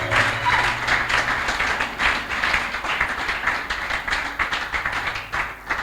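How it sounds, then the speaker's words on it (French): Church congregation clapping together in celebration of Jesus, a dense, continuous wash of applause from many hands throughout, loud and fairly even with no voices on top. "Come on, celebrate Jesus with a clap of."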